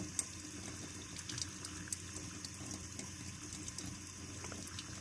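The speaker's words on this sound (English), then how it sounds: "I'm using warm water and I'll do this for some time." Warm tap water runs steadily over the needle of a Keurig coffee maker to wash off stuck coffee, a faint continuous hiss and splash with no talking.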